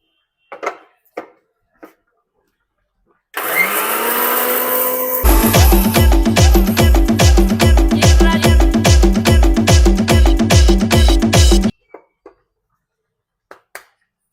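A kitchen mixer grinder grinding spices for chicken pickle masala starts with a loud whirring rise, then runs in a rapid, heavy pulsing chop for several seconds before stopping, with light clicks and knocks before and after.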